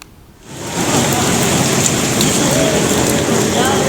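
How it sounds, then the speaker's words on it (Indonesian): Heavy rain pours down during a flood in South Tangerang, starting softly and then swelling into a loud, dense, constant hiss of water on surfaces. "Hujan yang mengguyur Tangerang Selatan hingga Minggu pagi ini membuat Jalan Ceger Raya terendam banjir hingga setinggi 60 cm."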